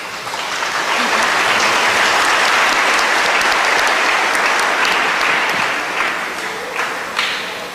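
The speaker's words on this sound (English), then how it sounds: "If you want to applaud, it's okay." Audience applause fills a hall after an argument in a debate competition, a dense, steady wash of clapping that holds loud for about six seconds before thinning and tapering off at the end.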